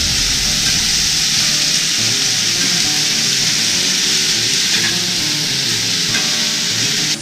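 Deer meat sizzles loudly in a big pan for chili, a dense, continuous hiss of frying with occasional faint stirring, heard up close and without talk.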